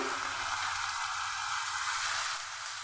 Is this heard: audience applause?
no